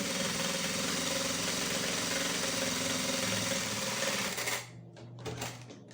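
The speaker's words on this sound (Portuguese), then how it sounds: "Já aproveito e venho aqui e costuro para prender o forro" Sewing machine stitches the lining of a crossbody bag in a steady, fast mechanical whir that runs continuously for several seconds, then stops abruptly, leaving a few scattered handling clicks and faint thumps.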